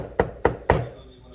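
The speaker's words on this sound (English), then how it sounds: "All right, I knock on the door." Three firm knocks on a door, evenly spaced and close, each a sharp thud that fades into a quiet room.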